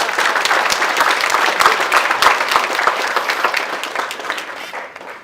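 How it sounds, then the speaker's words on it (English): A birthday celebration audience claps loudly and steadily, dense applause with a few sharp individual claps standing out, slowly thinning near the end. "Give 60 a big clap."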